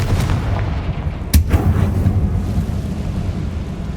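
Confringo blasting spell exploding in the Hogwarts Legacy video game, a sharp, loud booming blast near the middle with a rumbling tail, set over dense low battle noise.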